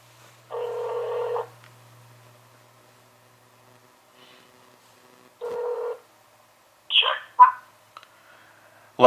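A telephone call being placed: two separate ringback tones with quiet gaps between them, followed by a few short chirpy clicks as the line seems to connect. No one speaks.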